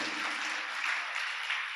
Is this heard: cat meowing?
no